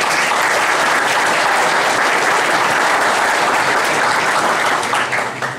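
A large lecture-hall audience at a university IT jobs event claps steadily and loudly, a dense continuous wash of hands that holds level throughout and thins slightly at the very end, with no voices over it.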